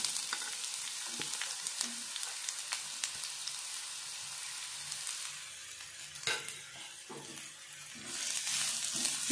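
Finely chopped onions fry in about three spoons of oil in a pan, giving a steady close sizzle with scattered crackles and the scrape of stirring, and no talk over it.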